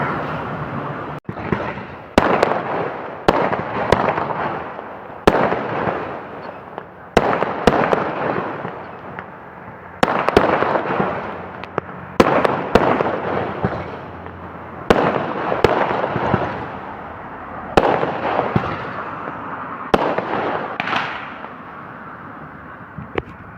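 Diwali firecrackers and fireworks go off in a rapid series of sharp, loud bangs and pops, each followed by a short crackling tail, spread irregularly across the whole stretch with no talking.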